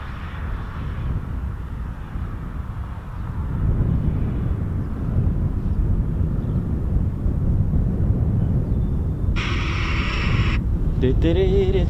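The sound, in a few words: Eurofighter Typhoon FGR4 jet on low approach, RAF Coningsby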